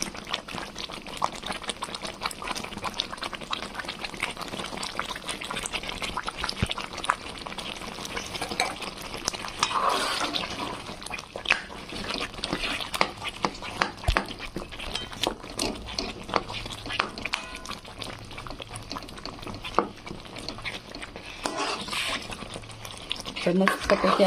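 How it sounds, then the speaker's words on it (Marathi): Boiled potatoes are stirred and mashed into thick pav bhaji in a pan, giving a continuous soft scraping and squelching with frequent spoon knocks and a low sizzle throughout. "बटाटे टाकून घेऊ उकडलेले"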